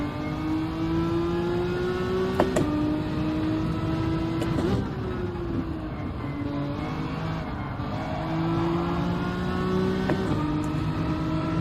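Race car engines in the Gran Turismo 7 racing game drone steadily throughout, with rising and shifting engine pitch as cars accelerate and change gear, a continuous loud mechanical hum.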